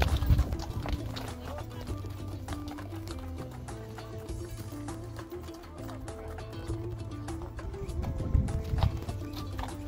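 Horses walk up a mountain trail on a summer horse trek to the Altyn Arashan pasture, hooves clip-clopping in a steady uneven rhythm close by, with low rustling and a faint voice now and then.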